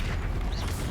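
A Confringo fire spell blast in the Hogwarts Legacy video game lands as a deep, booming rumble that stays loud and steady across about a second, with a faint whistling streak partway through and no voices.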